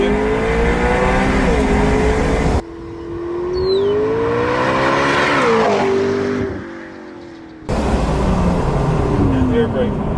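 A 2015 McLaren 650S supercar goes to full throttle, its engine note climbing steadily in pitch as it accelerates hard, loud and close from inside the cabin, then dropping off sharply before the roar resumes.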